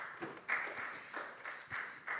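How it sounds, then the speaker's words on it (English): A conference audience at a tech summit gives a round of applause, heard as moderate, fairly faint clapping from a crowd in a hall. "Big round of applause one more time."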